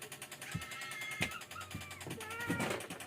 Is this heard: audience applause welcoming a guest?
no